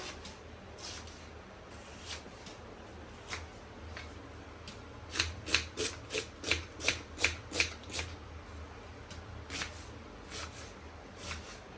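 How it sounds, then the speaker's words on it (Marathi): An onion being chopped by knife for a Marathi home-style dried-fish dish gives a run of about eight sharp, evenly spaced chops in the middle, with scattered softer cuts before and after over a low background hum. "कांदा मस्त कापून घेऊया"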